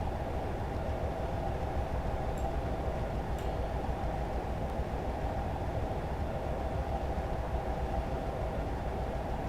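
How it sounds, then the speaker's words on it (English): A Class 57 diesel locomotive in Train Simulator 2020 runs steadily along the Plymouth to Penzance line, with a constant engine drone and track rumble throughout and a few faint clicks. "let the train accelerate back up to 65 miles an hour"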